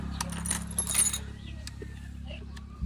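Car keys jingle and clink as they are pulled from a pocket, with bright metallic rattles over a low engine-like hum while someone talks.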